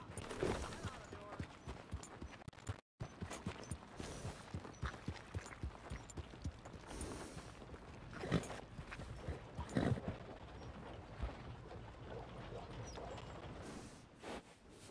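Horse hooves clip-clopping at a steady walking rhythm in Red Dead Redemption 2, close and fairly quiet, with people talking over the hoofbeats.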